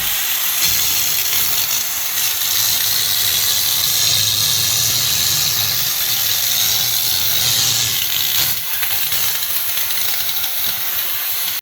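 Steam cleaner blasting a shower, a loud continuous hiss of steam with a low motor hum beneath, briefly dipping near the end.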